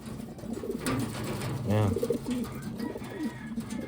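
Wantai racing pigeons coo in short throaty bursts, one clear rolling coo standing out midway, with someone talking over and between the calls.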